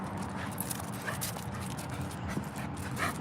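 A dog moves and whimpers close by indoors, with soft panting and scuffling sounds over a steady low background hum, no clear barks, continuous through the short stretch.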